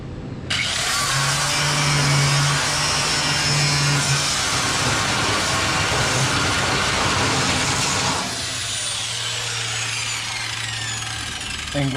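An angle grinder fitted with a thin, flexible cutting blade deepens grind cuts on a trailer under restoration, a loud, steady whine that runs continuously for about eight seconds, then drops to a lower, fading spin-down.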